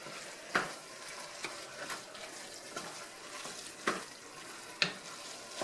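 Ground mustard being stirred into a pan of sloppy joe mixture, with a broad soft sizzle and scraping, punctuated by a few sharp spoon knocks against the pan.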